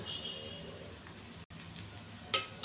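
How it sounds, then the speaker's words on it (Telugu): Mustard seeds, cumin, ajwain and peppercorns fry in hot oil as a tempering, giving a steady crackling sizzle with a few sharper pops toward the end. "పోపు వేగిపోయిందండి"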